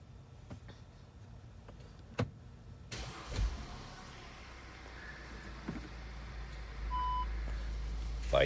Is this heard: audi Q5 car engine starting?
yes